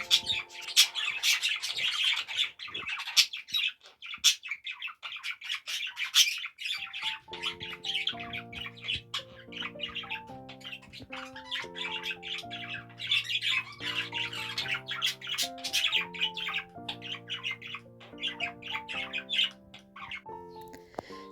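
Parrots in a home aviary squawk repeatedly in harsh, loud, close bursts, while a steady tonal melody plays underneath in the second half.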